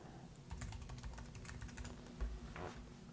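Fingers tap steadily on a computer keyboard while a search location is entered in a web app, a fast, fairly faint run of light clicks with no talking.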